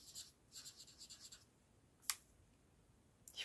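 Thick pens from a writing set drawn across paper, several soft scratchy strokes in quick succession, then a sharp tap and a short final stroke, close and quiet.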